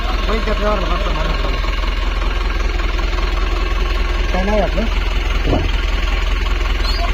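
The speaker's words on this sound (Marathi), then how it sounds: "मोठा ट्रॅक्टर आहे ट्रॅक्टर चालू केलेला आहे" A big four-cylinder diesel tractor engine idles with a constant deep throb close by at an agricultural exhibition, while people talk over it.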